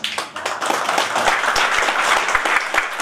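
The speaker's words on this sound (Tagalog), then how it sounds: "may narinig ako, isa pumalakpak" Audience clapping at a business presentation, a dense, steady burst of many hands applauding together close by, continuing evenly for the whole few seconds with no voices over it.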